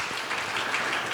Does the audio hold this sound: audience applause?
yes